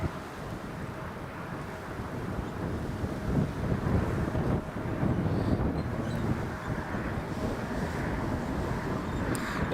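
Storm Isha winds roar at Newcastle Airport as a continuous gusty rush that swells and eases, with distant aircraft rumble mixed in and no talk.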